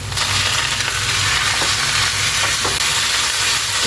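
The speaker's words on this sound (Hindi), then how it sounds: "फ्राई कर लेंगे चिकन को भी, सौते कर लेंगे।" Chicken pieces sautéing with onion and ginger in a hot pan give a steady loud sizzle and crackle, with a few faint scraping stirs and no talking.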